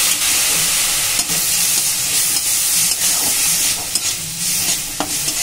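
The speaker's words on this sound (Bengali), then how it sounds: "হালকা একটু পানি ছিটা দিয়ে মশলাটা কষে নেব" Ground turmeric, chili and cumin frying in a pan with a splash of water, a loud steady sizzle broken by repeated scraping stirs of a spatula at close range.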